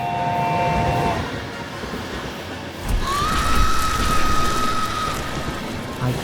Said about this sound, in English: the night train suddenly appeared.